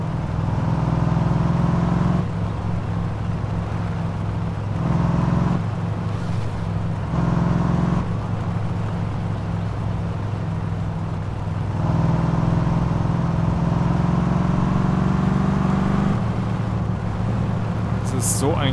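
Car engine driving in the game My Summer Car, heard as a loud, steady engine drone that rises and falls as gears change, with someone talking over it.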